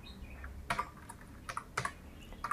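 Typing on a computer keyboard while entering an Excel formula, a few distinct close keystrokes in a loose uneven rhythm over a low background rumble.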